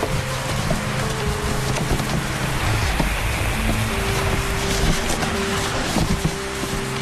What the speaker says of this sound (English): The rain comes and shuts Hugues down.